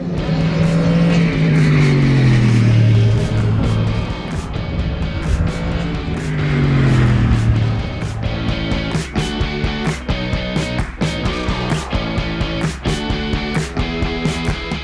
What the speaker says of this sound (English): it's just a basic straight as the cars come flying past me